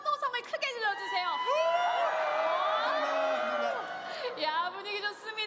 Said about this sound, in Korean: 홍진호 팀을 응원하신다면 환호성을 크게 질러주세요